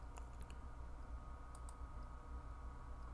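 Mouse clicks while working in DaVinci Resolve editing software, a few faint sharp clicks over steady low room hum.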